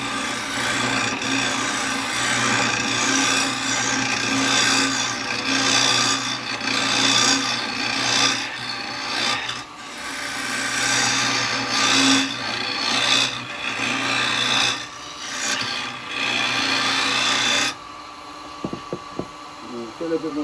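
Wood lathe hollowing the inside of a jewellery box turned from a mix of woods, a steady scraping, rasping cut close by with changing intensity, then the tool stops near the end, leaving sparse knocks.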